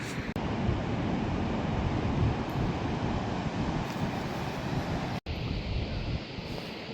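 Ocean waves and wind on the Moroccan coast near Essaouira, a steady broadband roar of surf and gusting wind buffeting the microphone, continuous and loud with no speech.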